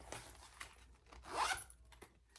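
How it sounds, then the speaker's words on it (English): A zipper on a large pocket of a handmade leather shoulder bag, pulled in one quick, close run with a few small rattles and taps around it. "Nice big slip pocket, a huge zipper pocket."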